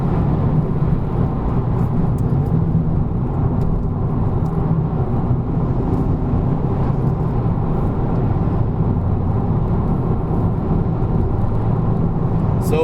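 A Honda Civic Type R engine drones steadily from inside the car as it shifts up from fourth through fifth to sixth gear, a continuous low rumble with no clear breaks and no talk.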